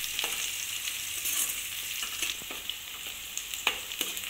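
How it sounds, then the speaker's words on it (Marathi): Chopped onions for Maharashtrian dal kanda sizzle and fry in a hot pan, a steady hiss with soft clicks and scrapes from stirring, close and alone without talk. "कांदा आपल्याला गुलाबी कलरवर छान असा परतून घ्यायचा आहे।"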